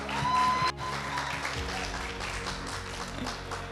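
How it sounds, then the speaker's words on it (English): Participants in a factory challenge are applauded by a room of people; a steady patter of clapping at moderate loudness, continuing evenly after a brief tone at the start, without talk. "Okay, give a big applause for y'all."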